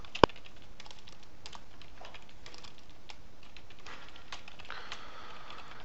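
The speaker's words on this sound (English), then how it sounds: "I can type in what the issue is" Fast, steady typing on a computer keyboard, close and clear with no talk, with light irregular key clicks and one sharp louder tap near the start.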